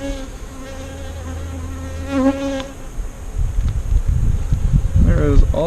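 Honeybees buzz densely at close range, a continuous hum with shifting tones, joined by rustling and handling noises that grow louder toward the end.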